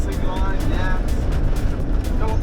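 A Fiat Ducato van drives along a dusty dirt road in Australia, a steady low engine and tire rumble with gravel noise continuing throughout, close and fairly loud, with a voice speaking over it.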